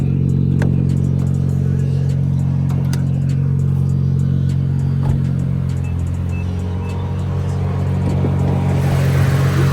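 A Nissan Z with upgraded turbos runs at a drag event, its engine a loud, steady, close droning hum with light mechanical clatter that rises in intensity at the end.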